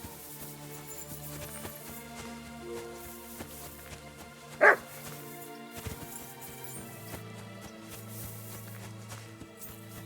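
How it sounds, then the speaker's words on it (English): A single short dog bark rings out in a medieval open-world game, Kingdom Come Deliverance 2, rising briefly over a steady bed of ambient music and background sound. "Barking. It's coming from over there."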